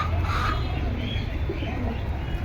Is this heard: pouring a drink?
no